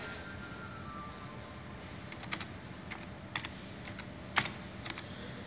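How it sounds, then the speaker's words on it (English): Light, scattered keystrokes on a computer keyboard used to enter data into a Li-Fi communication setup, faint and close over a quiet room hum. "So I will type some data here."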